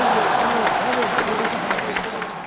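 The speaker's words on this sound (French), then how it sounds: "Ceux qui applaudissent, des musulmans et des Européens, soudés dans un élan de fraternisation" A rally crowd of Muslims and Europeans claps steadily for a woman addressing them, the applause a broad, even wash with a voice speaking over it.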